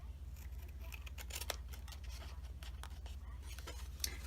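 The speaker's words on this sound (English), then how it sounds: "We gotta trim these a little bit here." Scissors trimming the sides of a paper tea bag box, a handful of soft, close snips and faint rustling over a low steady hum.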